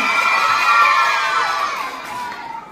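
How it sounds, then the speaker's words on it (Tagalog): A pageant crowd at a Miss Gay contest in Pitogo, Quezon erupts in loud cheering and high-pitched shouting over applause, a sustained roar that slowly fades toward the end. "ang hiling lamang po ng baklang nasa inyong harapan ay masigabong palakpakan na may kasama hiyawan"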